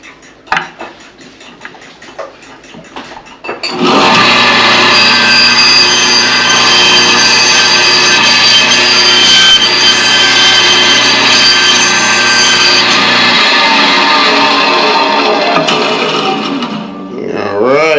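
Power saw cutting through pork bone while butchering a farm-raised hog, a loud sustained whine running for about ten seconds after a few quiet knocks and handling sounds, then trailing off.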